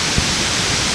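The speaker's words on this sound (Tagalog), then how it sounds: "Nagaslas ng tubig." Steady rushing water of Anyap Falls at a campsite in Tanay, Rizal, a dense, even roar of falling water that runs unbroken throughout.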